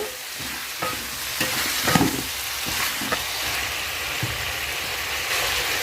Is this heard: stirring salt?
yes